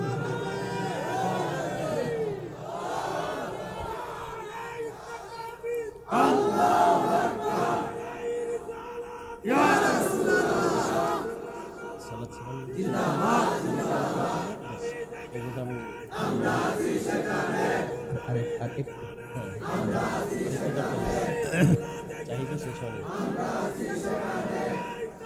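A huge outdoor rally crowd of thousands in Chandpur chants a slogan together in loud, repeated bursts of massed voices, each shout lasting a few seconds with brief pauses between waves.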